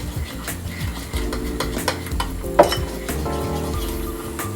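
A spoon stirs flour into a dough mixture in a bowl for Georgian khachapuri cheese bread, giving a steady close scraping and sloshing with occasional knocks against the bowl.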